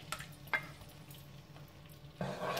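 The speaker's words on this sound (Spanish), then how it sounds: "ya vamos con el turno de los huevos. Los iremos echando uno por uno." Raw eggs go one by one into a hot pan of huevos rotos with garlic mushrooms. A faint sizzle is broken by soft splats, then a louder, fuller frying hiss swells near the end.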